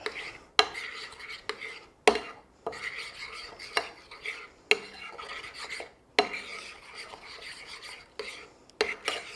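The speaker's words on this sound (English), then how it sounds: "So you just stir all this up." A spoon stirs a thick seafood sauce with a teaspoon of garlic powder in a bowl, giving repeated close scraping and rubbing strokes with sharp clicks against the sides, steady and rhythmic.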